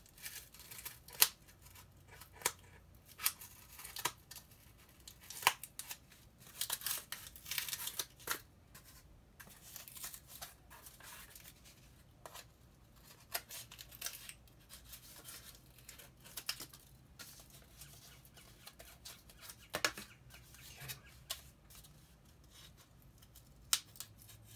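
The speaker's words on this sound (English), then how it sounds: "Might have to rough cut this and then trim it out a little bit better" Quiet, irregular snipping and rough cutting of material for a racing-game build, close by with scattered crisp bursts over a soft background, no voices.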